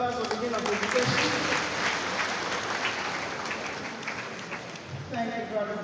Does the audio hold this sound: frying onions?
no